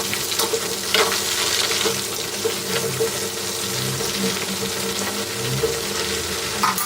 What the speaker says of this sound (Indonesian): goreng semua ayam filet balut tepung basah tadi sampai matang dan kering